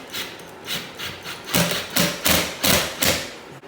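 A hammer drives a nail into a small piece of wood near an electrical box being mounted: a series of soft taps, then about five louder, evenly spaced thuds close by, with no talk.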